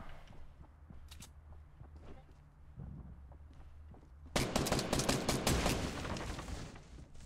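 Video game gunfire: scattered faint shots at first, then a dense, loud burst of rapid automatic fire for the last three seconds, close and continuous, with no talk.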